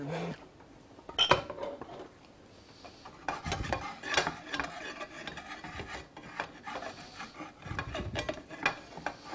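Okra is stirred in a cooking pot, giving repeated close scraping and rubbing strokes of a utensil against the pot, irregular and moderately loud, with no talking.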